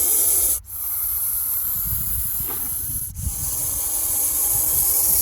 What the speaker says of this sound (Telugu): ఈ పాము బుస పెడుతుంది.